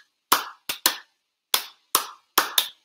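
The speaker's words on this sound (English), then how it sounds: "we're going to clap five times" Hands clapping in place of letters in the Bingo children's song, seven sharp, close claps in a halting rhythm of one, two, then pairs with silence between.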